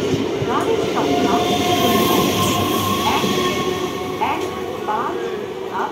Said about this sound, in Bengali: train number 31519 of Shialda Shantipur local is arriving on platform